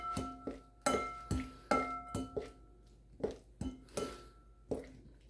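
Hot egg noodles stirred with butter, salt, pepper and dry parsley in a metal pot: a utensil scrapes and clinks against the pot in an uneven run of about a dozen close, ringing knocks, with no talk.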